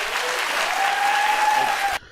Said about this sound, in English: Why they're clapping? Why are you clapping